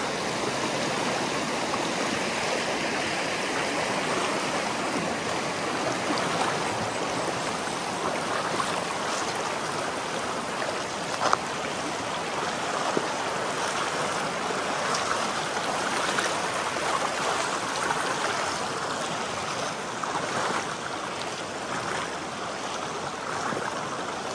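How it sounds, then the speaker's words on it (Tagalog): A large river flows in a steady, broad roar of rushing water, unbroken and close for the whole stretch, with no voices over it. "Medyo malaki po siya na ilog."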